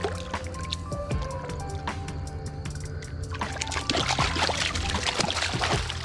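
Hands splashing and scooping in shallow creek water at a trout stream bank, close-up wet sloshing and dripping that grows busier and louder toward the end.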